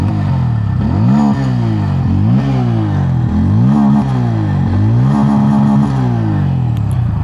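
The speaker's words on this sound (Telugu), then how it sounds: "ఒకసారి ఎగ్జాస్ట్ సౌండ్ వినండి" A 2026 Bajaj Pulsar N160 motorcycle, a 152 kg bike, revs loudly and close by. Its exhaust rises and falls through about five throttle blips over a steady idle rumble, with no talking.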